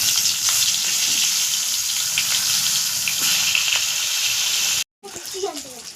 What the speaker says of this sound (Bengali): এবার আমি বাকি পটলগুলো এইভাবেই ভেজে নেব।